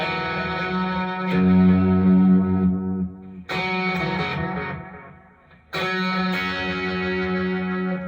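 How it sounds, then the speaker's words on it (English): Guitar chords ring out through an SDD delay set for an ambient-style sound, each phrase followed by a loud first repeat with a gentle wavering, chorus-like shimmer in the echoes. "Loud first repeat, a little bit of modulation in the repeat."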